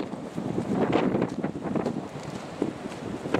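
Steady gusting wind buffets the microphone at Garleton Castle ruin in a continuous low rumble, loud and close, with no voices.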